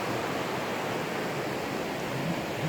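Rushing river water pours over a drop-off step in the rapids at Brattfallet in Värmland. It makes a steady, dense broadband roar that stays constant throughout with no voices.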